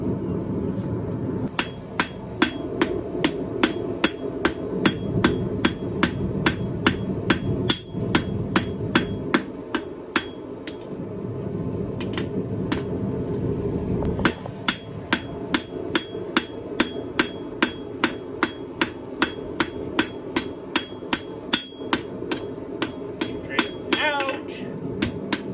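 Hot iron struck repeatedly with a hammer while forging the flat jaws of blacksmith tongs, a steady run of sharp metallic blows, close and loud, with brief pauses between volleys.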